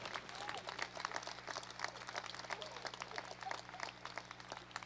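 Scattered, moderately distant clapping from an audience at an arena back-to-school celebration greeting a new school superintendent, irregular individual claps over a low steady hum, fairly quiet overall.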